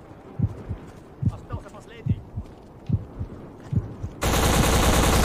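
Gunfire in the video game BLACK comes as evenly spaced heavy low booms, roughly one per second, under a murky layer of game noise. A sudden loud, steady roar takes over near the end.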